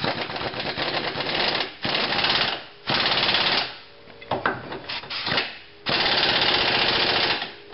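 A power tool drives in the control arm bolts on a Honda Civic during a control arm replacement, in five loud, close rattling bursts of a second or two each, separated by short pauses.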